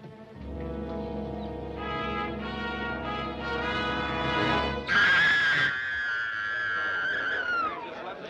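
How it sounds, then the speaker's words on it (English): In a scene from the film Superman and the Mole Men, a person lets out a long, shrill scream that slides downward and fades, after several seconds of sustained tonal voices or music. "The mob is off to see who screamed."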